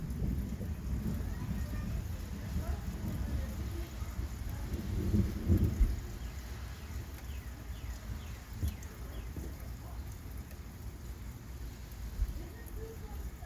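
Thunderstorm over Penfield, New York on a hot, muggy day: steady rain hisses throughout while low thunder rumbles, swelling loudest midway and rolling on faintly, with no talking.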